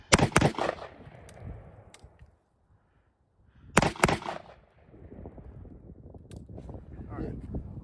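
Two loud, sharp gunshots ring out at an outdoor shooting range, spaced a few seconds apart, each trailing off quickly, followed by low background noise and faint activity.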